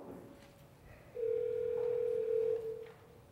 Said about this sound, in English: This is my phone. I should get the call.